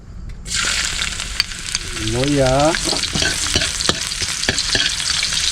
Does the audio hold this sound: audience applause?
no